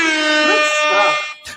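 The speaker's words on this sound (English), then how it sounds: "I begrudgingly will accept my loss and give you the air horns" A loud, sustained air horn blast with rich harmonic tone, wavering slightly in pitch, then cutting off before a brief short burst at the end.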